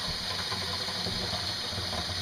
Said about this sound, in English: Fill your bottle up.